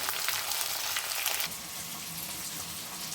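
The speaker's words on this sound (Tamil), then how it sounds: "அப்போ அதில் புளி போடணும்." Tamarind goes into shallots frying in oil, a bright steady sizzle that suddenly drops to a softer, lower bubbling hiss as the pan settles.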